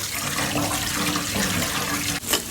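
Tap water runs steadily over boiled pasta being rinsed in a kitchen sink, a close, constant splashing rush that breaks briefly near the end before resuming.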